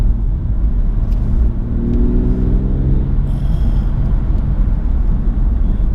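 BMW M240i Coupé accelerating from 40 to 60 mph, heard from inside as a steady loud engine rumble with rising tones, no talk.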